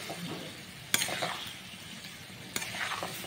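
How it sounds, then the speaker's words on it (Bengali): Boiled potatoes go into a spice paste frying in a pan: a quiet, continuous sizzle with two sharp stirring clatters against the pan. No voices. "এবার আলুগুলোকে দিয়ে দিলাম, সিদ্ধ করা আলুগুলোকে দিয়ে দিলাম।"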